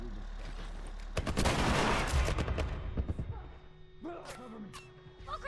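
Gunfire from a military crew in The Last of Us video game: a dense volley of rapid shots crackles for about two seconds, then thins out as people begin talking over the fading shots.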